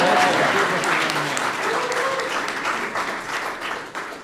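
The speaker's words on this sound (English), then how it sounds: "Everybody give Jalen a round of applause." A large crowd at a swearing-in ceremony applauds continuously, a dense wash of clapping that holds steady and begins to taper at the end.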